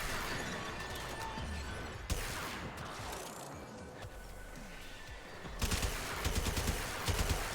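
Gunfire in the video game Warframe crackles in rapid, dense volleys, loudest in a sustained burst near the end, with sharp single reports scattered between quieter stretches.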